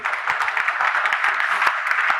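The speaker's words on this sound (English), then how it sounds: "Give a clap to me if you're enjoying it." Steady applause from an audience, many hands clapping together continuously with a dense, even patter throughout.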